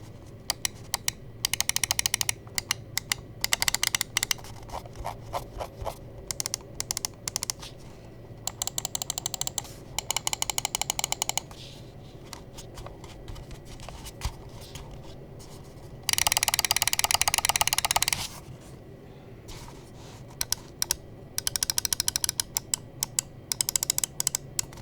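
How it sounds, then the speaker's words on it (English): Rapid bursts of sharp clicks from a Pulsar Xlite V3 gaming mouse, pressed in quick clusters with short silent gaps between, close and crisp with no talk. "let's go ahead and drop the sound test for the clicks and the build quality"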